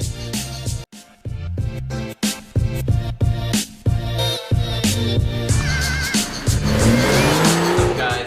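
A 2011 BMW 335i engine revs hard and roars past with squealing tires, heard over a steady rhythmic music track.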